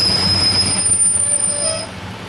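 A train rolls in close by with a steady rumble and a high metallic squeal of wheels on rails, slowing as it pulls into the station.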